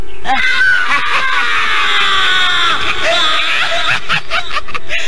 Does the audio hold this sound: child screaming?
yes